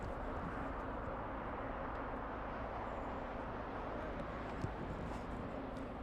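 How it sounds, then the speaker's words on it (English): An airplane taking off near Los Angeles roars as a steady, broad, distant rumble that holds at an even level for several seconds with no voices. "Our cameraman, he's going to go to the north and capture your takeoff on video."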